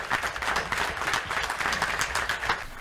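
An audience gives steady, moderately loud applause, with dense overlapping claps continuing throughout.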